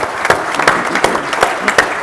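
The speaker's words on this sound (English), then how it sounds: "a hand of applause for the four panelists" A breakfast audience at a Tombstone gold rush event applauds four panelists, a short spell of scattered handclaps with a few sharp individual claps standing out, moderately loud and close.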